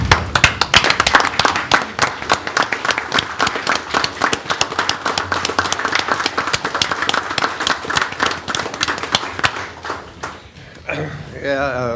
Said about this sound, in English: So I'd like you all to stand and join me in a round of applause for Bruce